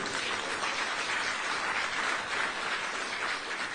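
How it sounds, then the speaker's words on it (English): An audience at a live Abuja democracy anniversary gathering applauds, a steady, dense wash of many hands clapping at moderate distance, even and unbroken throughout with no voices on top. "Please let us clap for him."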